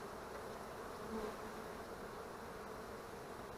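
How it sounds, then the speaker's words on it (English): Agitated honey bees swarm around an opened backyard hive, producing a dense, steady buzzing drone heard close by and without any voices. "That's how you piss off a lot of bees."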